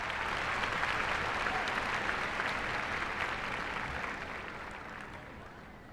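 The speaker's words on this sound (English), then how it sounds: "How about another round of applause for the David Douglas Choir" A large audience at a 2013 David Douglas High School graduation applauds the school choir, the dense clapping holding steady before slowly thinning and fading toward the end.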